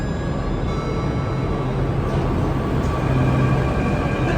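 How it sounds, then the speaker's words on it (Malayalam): A short four-coach Jaipur Metro train on the Pink Line pulls into a station, a steady rumbling roar with faint tonal hum holding at an even level throughout, no voices. "പോകാനുള്ള മെട്രോ ഇതാ വരികയാണ്"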